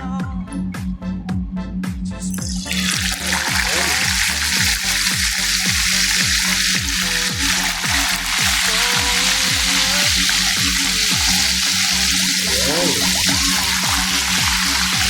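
Tilapia sizzling and crackling steadily in hot oil, a dense continuous frying hiss that swells after the fish goes in, with a low rhythmic thumping underneath.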